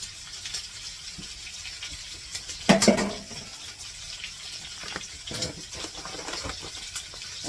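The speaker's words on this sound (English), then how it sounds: "And then we're going to pour the rest of that soup over top of that." Soup is poured from a bag over onions in a dish, soft wet glugs and splashes with one louder gush partway through, close and otherwise quiet.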